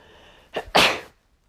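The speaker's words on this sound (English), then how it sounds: "Gonna sneeze quick." A single loud, close sneeze bursts out in two quick parts, a short intake-like puff followed by a stronger explosive blast, then quiet.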